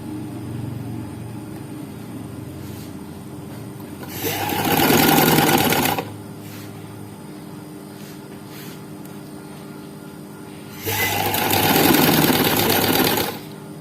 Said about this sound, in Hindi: अब ऊपर किनारे पे सिलाई लगेगी।